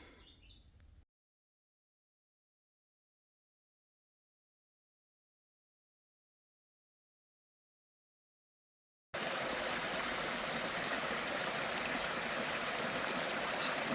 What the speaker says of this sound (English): This stream's emptying from one pond and through another pond.